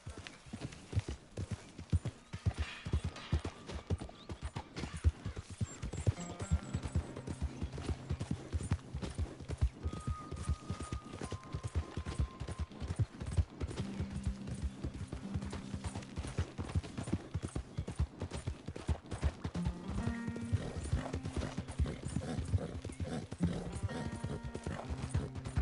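A horse galloping in the Red Dead video game, hooves pounding in a rapid, continuous rhythm close by, with tonal game music and occasional snorts layered over the drumming.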